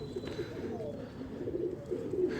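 Red-eyed pigeons give a soft, low cooing close by, a murmuring rolling tone that lasts for a couple of seconds without talk.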